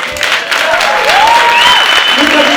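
Audience applause following a sertão romance folk performance at Instituto Brincante, a steady dense clapping throughout, with a voice speaking and whistles or cheers rising above it.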